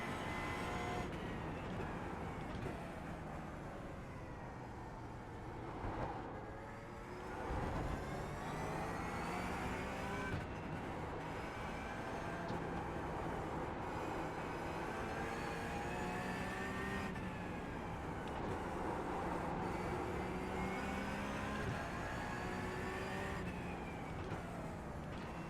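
Race car engine in a racing video game on a road or oval circuit, a continuous high revving whine with repeated upward sweeps through the gears and brief dips under braking, steady and fairly faint.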